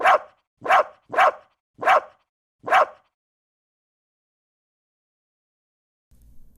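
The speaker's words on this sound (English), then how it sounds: "Dog." A dog barks five times in quick succession, sharp and close, then falls quiet.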